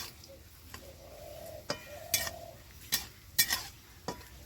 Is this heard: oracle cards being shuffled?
no